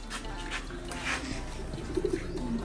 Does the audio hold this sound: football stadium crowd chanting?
no